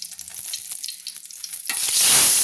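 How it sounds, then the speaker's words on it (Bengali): Cauliflower pieces dropped into hot oil for frying, a quiet stirring scrape that bursts into a loud, bright, steady sizzle. "তাই আমি ফুলকপিটা আলাদা করে ভেজে নিচ্ছি। তেলটা আমার দেখুন গরম হয়ে গেছে"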